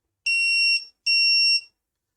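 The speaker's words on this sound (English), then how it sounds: "The red light is turned on and buzzer make the sound with the 2 times." Two identical high electronic beeps from a scanner buzzer, each lasting about half a second, separated by a short gap, loud and clear against silence.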